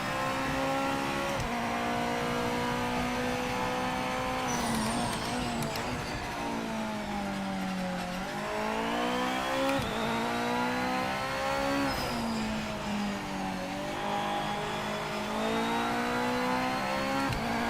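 A GT500 race car on a racing track in Project Motor Racing, its engine loud and close, revving hard and rising through repeated gear shifts, with a brief dip while braking, running continuously without talk.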